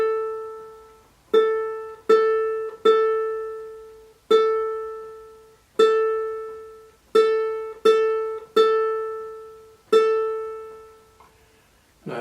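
A ukulele plays a simple classroom exercise line in 4/4 time: nine clear plucked notes, each ringing and fading, some held for two beats and others for one, in an even, unhurried rhythm.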